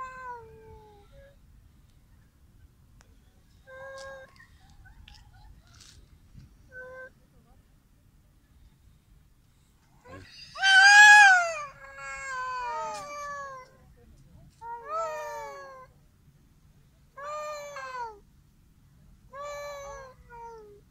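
Two cats meow back and forth in a quiet room, starting with faint scattered mews and then building into a louder run of drawn-out, wavering calls near the microphone.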